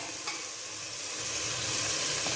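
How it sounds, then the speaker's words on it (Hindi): Red chili powder, turmeric and salt roasting in a hot pan, an even hissing sizzle that holds steady throughout with faint stirring underneath. "अब हम तकरीबन मसाले की अच्छे से भुनाई कर लेते हैं।"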